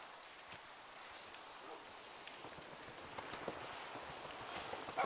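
Steady, soft rain falls in a video game, a faint even patter and hiss with no break in it.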